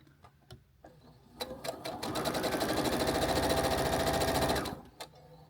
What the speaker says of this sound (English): we're going to sew right directly on the line. And if your machine cooperates with you, it works out really well.